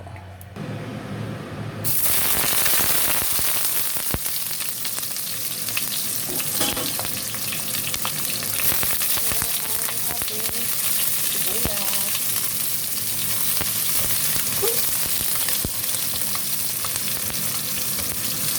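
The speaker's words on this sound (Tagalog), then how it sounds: "magpainit na tayo ng mantika para sa ating sibuyas. Para gisa natin ang sibuyas sa ating" Sliced onions sautéing in hot cooking oil for pork adobo, a loud, dense, continuous sizzle close by, with occasional stirring scrapes running through it.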